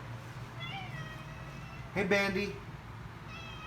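Indoor cats meow in short rising calls, one louder burst in the middle of the clip, while a person speaks briefly over a steady fan hum.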